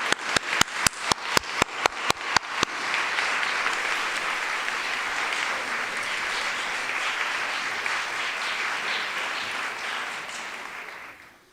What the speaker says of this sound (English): please rise for a moment and let us applause